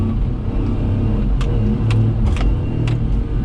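Small Daihatsu Hijet kei truck engine pulling steadily in third gear, a continuous low mid-pitched drone heard from inside the cab, with a few faint clicks and rattles over the top.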